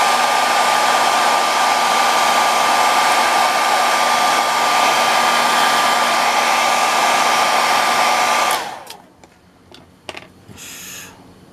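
A hair dryer blows hot air onto a decal on a Tamiya 1/24 Lancia Stratos Turbo plastic model, a loud steady whooshing whine that cuts off abruptly near the end, followed by faint handling noises.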